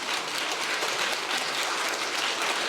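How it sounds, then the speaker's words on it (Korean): Church congregation applauding during a pastor's sermon at Pohang Central Church, a steady wash of many hands clapping that fills the whole stretch at moderate level with no voices over it. "아니, 박수를 치려면 좀 잘 치든지."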